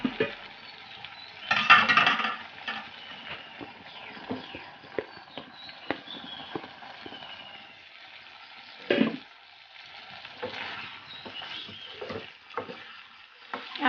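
Chicken and potatoes fry in a pan while a spoon stirs them, giving soft sizzling with scattered clacks and scrapes. Occasional louder clatter cuts through, and the sound is fairly quiet overall.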